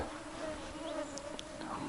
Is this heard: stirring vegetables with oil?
no